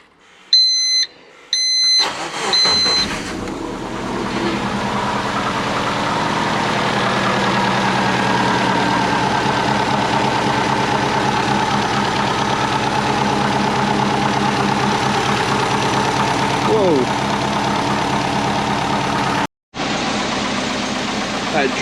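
Built Subaru EJ20 engine in a Forester starts after a few sharp electronic beeps and settles into a loud, close, steady idle that drops out for a moment near the end.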